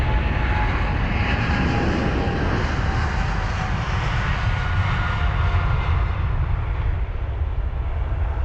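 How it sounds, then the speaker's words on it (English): American Airlines Boeing 777-300ER departing Heathrow on its takeoff roll, a loud, steady jet roar with broadband rumble and high whine that holds throughout and fades slightly toward the end. "Flight number AA39 off to Miami for this American Airlines Boeing 777-300ER"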